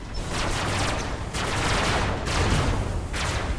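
SMG tank fire in the Robocraft video game comes as dense, continuous bursts of rapid automatic shots, loud and close, with short pauses between volleys.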